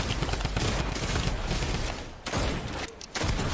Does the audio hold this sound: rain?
no